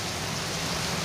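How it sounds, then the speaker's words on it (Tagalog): Heavy rain falls during an e-bike ride, a dense, loud, even hiss with no break across the short stretch. "Lakas ng ulan mga kaayos"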